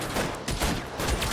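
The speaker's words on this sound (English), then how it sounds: "Machine gun!" Machine gun fire in the video game L.A. Noire, a dense continuous burst of rapid shots with no pauses, loud and close.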